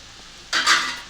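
Grated raw mango for chitranna gojju hits a hot pan and bursts into a sudden loud sizzle that holds steady to the end, with light stirring and no voices.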